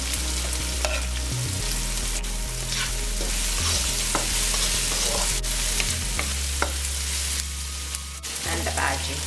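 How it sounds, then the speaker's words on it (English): Onion and chili pepper stir-fry in a pan with a loud, continuous sizzle. Frequent scraping stirs and knocks from the utensil come through, and a voice occasionally speaks over the cooking. "Now add the onion and the chili pepper."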